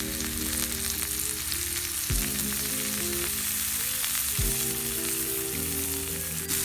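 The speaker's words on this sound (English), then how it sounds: "Now we just let that sear, and we don't want to flip it too often." Venison backstrap sears in a hot pan with a steady, even crackling sizzle like light rain, interrupted by a couple of soft low thumps.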